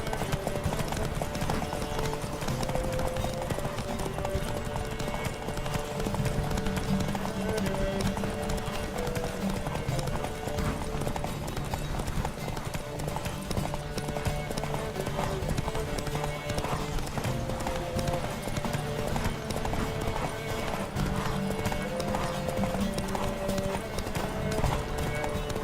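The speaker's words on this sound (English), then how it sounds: "Don't spare the horse!" Several horses galloping in a race in The Witcher 3 video game, a steady rapid clatter of hooves throughout with a tonal musical score playing underneath.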